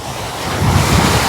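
Strong ocean waves break on the shore with loud, close surf roar and heavy wind buffeting the microphone, swelling slightly toward the end.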